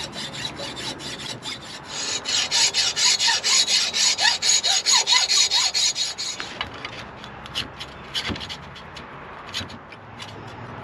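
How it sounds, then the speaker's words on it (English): A hacksaw saws through a trolling motor shaft in fast, rhythmic rasping strokes for several seconds, then slows into scattered lighter scrapes and taps. "Now I'm just going to cut it with a hacksaw."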